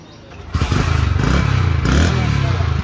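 A motorcycle engine starts running loudly after a brief quiet lead-in, holding a steady idle-to-low rev rumble with some clattering thumps, heard close up as riders climb aboard in the rain.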